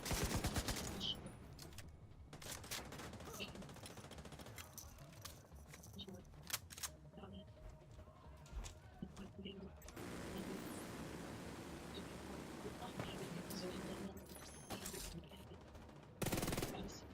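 Rapid automatic gunfire empties a full magazine in The Division 2, sustained crackling shots with a few louder bursts, mixed with game sounds while someone talks over it.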